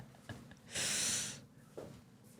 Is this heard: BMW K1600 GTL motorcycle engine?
no